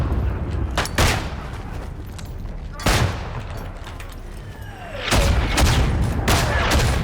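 Grenades explode in the Isonzo video game on the Monte Cengio map. Three heavy booms land a couple of seconds apart over a constant rumble of battle, and the last one is followed by denser crackling gunfire.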